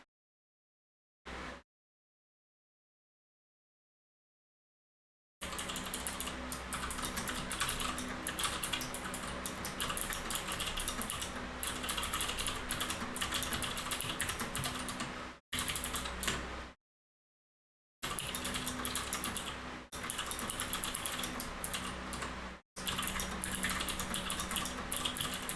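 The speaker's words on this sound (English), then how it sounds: "Aggressively typing." Fast, aggressive typing on a computer keyboard, a dense continuous clatter of close keystrokes that runs in long stretches broken by sudden silent gaps.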